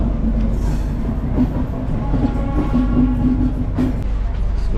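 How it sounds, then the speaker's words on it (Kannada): Shatabdi Express running from Chennai toward Bangalore, heard from inside the coach as a steady rumbling roll with a low hum and faint rattles, plus brief clicks near the end. "ಸೊ ಹೊರಟಿದೆ ಚೆನ್ನೈಯಿಂದ ಟ್ರೈನ್ ಇವಾಗ ಆನ್ ಡಾಟ್ 5:30."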